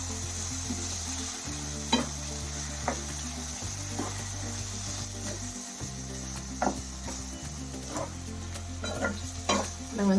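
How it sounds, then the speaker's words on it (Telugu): Washed mutton pieces drop into cooked tomatoes in a hot pan, giving a steady close sizzle with repeated scraping stirs of a spoon, and no talking. "టమాటాలు ఉడికిన తర్వాత కడిగి పెట్టుకున్న మటన్ ముక్కల్ని యాడ్ చేసుకోవాలి."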